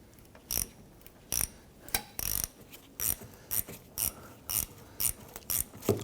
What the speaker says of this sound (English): I'm using a 10mm on this hose clamp.